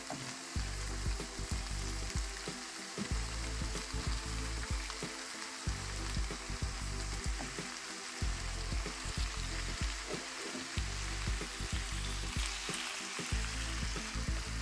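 Hake fillets sizzle steadily in a pan of fried vegetables, a dense, continuous crackle of hot oil with small pops and occasional stirring scrapes close by, with no voices.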